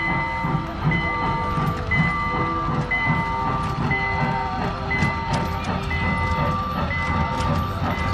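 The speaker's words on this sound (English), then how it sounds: "Got the little train here going with the kids, the train ride, which is really neat." A small amusement park train ride rumbles along steadily with rhythmic clacking and a repeated high-pitched tone, loud and close throughout.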